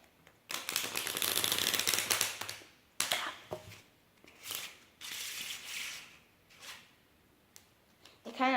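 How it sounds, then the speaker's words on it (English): A riffle shuffle of a stiff, hard playing-card deck, heard as a close burst of rapid ticking card flicks, then several shorter riffling bursts and soft handling noises with quiet gaps between. "I'll even show you what a riffle shuffle looks like with this deck."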